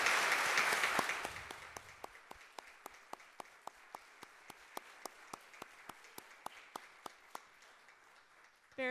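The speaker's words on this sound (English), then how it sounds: "Let's have a round of applause for our moderator and participants." Applause from the audience at a GMSD school board candidate forum, honoring the moderator and participants, is loud at first and fades within two seconds. A few lone, evenly spaced claps then carry on, sharp and distinct against near silence.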